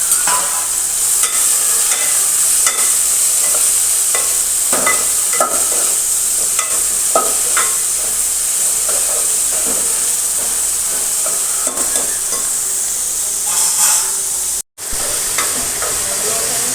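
Okra frying in a pan with asafoetida and curry leaves, loud steady sizzle with repeated scraping stirs throughout, close and continuous without speech.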